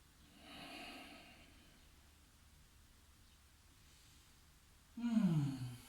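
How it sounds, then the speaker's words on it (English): Slow, deep breaths during a yoga bridge pose: a soft, airy exhale near the start, quiet stillness, then a louder close breath with a nasal, snort-like edge near the end. "We go for 5 deep breaths."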